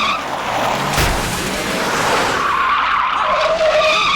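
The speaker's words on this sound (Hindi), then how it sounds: "गाड़ी पीछे ले।" A car reverses fast in an action scene, its tires skidding and squealing loudly and continuously under a roaring engine, with a sharp impact-like burst near the start.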